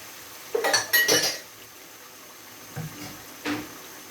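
Garlic and mango pickle stirred in a pan, giving a few short bursts of spoon scraping and clinking against metal, with quiet gaps between them and no talk.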